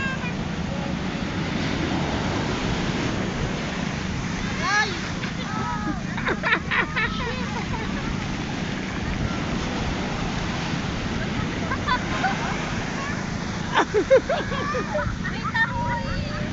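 Rough sea surf pounds a beach in Zambales, a steady loud wash of breaking waves with some wind, and brief faint voices now and then.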